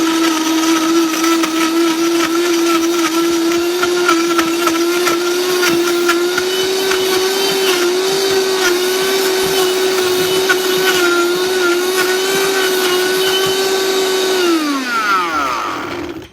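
A countertop blender purees a keto strawberry smoothie, running as a loud, steady whir with a constant motor pitch for about fifteen seconds before spinning down and stopping abruptly.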